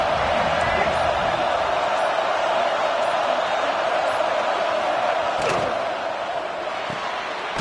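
A large crowd roars steadily at a Michigan State versus Maryland football game, a dense, loud wash of cheering that holds throughout and eases slightly near the end.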